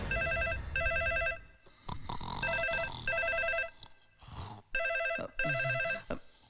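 An old-style telephone rings in repeated double bursts, a bright electronic trill pulsing with short gaps, with clatter and movement between rings.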